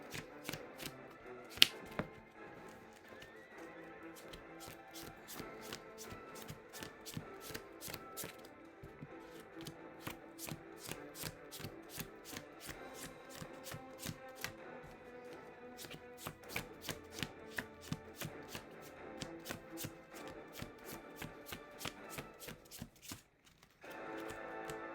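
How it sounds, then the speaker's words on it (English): Old School Magic: The Gathering cards shuffled at a table, a long run of quick, crisp riffling clicks in regular bursts, close and fairly quiet, with no talking. "I'm going to go ahead and shuffle up."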